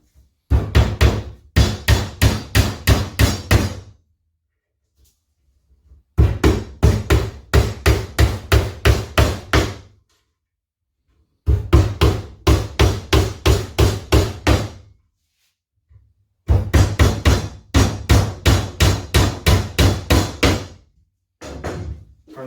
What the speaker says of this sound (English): nailing it along the bottom